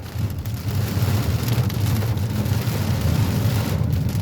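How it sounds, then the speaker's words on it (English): Steady heavy rain during a thunderstorm in an open rural area, a dense continuous patter with a low rumbling undertone, holding fairly even throughout with no voices. "Okay, the rain is lowering."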